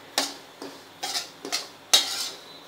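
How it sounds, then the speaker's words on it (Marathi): A spatula scrapes and clinks against a pan while fine semolina and gram flour dry-roast for rava besan ladoo. Four distinct metallic knocks sound at an uneven rhythm, close and clear, with no voices. "मी अजून त्याला भाजते"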